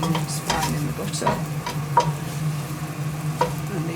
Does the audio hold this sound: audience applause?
no